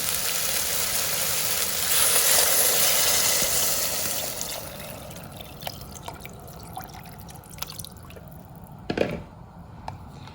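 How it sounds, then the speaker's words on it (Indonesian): Water pours steadily into a pot for chicken soup for a few seconds, a broad rushing splash that fades into quieter drips and small clinks. "Lalu kita tuang air."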